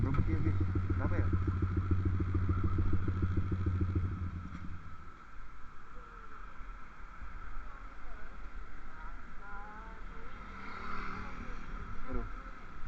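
A motorcycle with trouble and a modified exhaust idles and putters unevenly, with a pulsing engine throb for the first few seconds before it fades to a rougher, weaker running sound as a voice talks over it.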